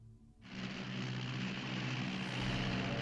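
Devastator torpedo bomber propeller engines from a WWII aircraft carrier at Midway, a low drone that surges in abruptly and holds as a loud, steady roar, no voices.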